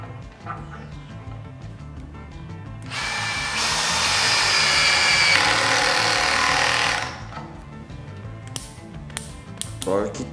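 An Einhell 18V brushless drill driver whines loudly for about four seconds as it drives a screw with no pilot hole, rising in pitch before stopping, followed by a few short clicks and taps.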